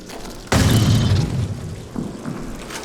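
A video game shotgun fires a single loud, booming blast that rolls into a decaying rumble, with faint softer thuds trailing after it.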